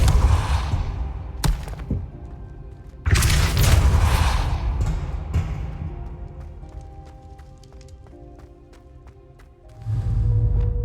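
A Depulso spell cast in Hogwarts Legacy, a sudden loud whooshing blast with a deep boom, followed by sharp impact clicks and a fading mechanical hum before another heavy surge.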